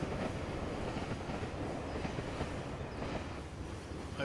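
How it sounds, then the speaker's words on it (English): A train rumbles past in the Farming Simulator 17 video game, a loud, steady mechanical roar with faint clattering that fills the whole stretch without pause. "Oh, here comes that train."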